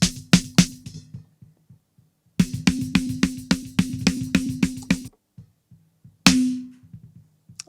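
Drum kit recorded on two mics with low end cut below 100 Hz and highs cut from 8 kHz, playing short bursts of sharp hits with a pulsing low drum, pausing between phrases and ending on a single ringing crash.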